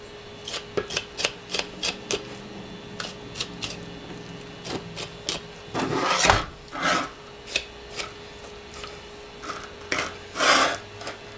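Knife cutting through deer hide while caping a deer: a series of short, close rasping strokes in quick succession, then longer scraping pulls, with no talk.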